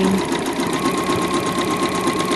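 A sewing machine runs at a steady, fast stitching rhythm while sewing around the edge of an espadrille dust bag, its needle close to the fabric edge; the motor hum and needle clatter stay loud and constant throughout, with no voices.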